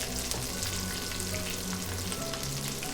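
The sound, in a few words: mushrooms frying in oil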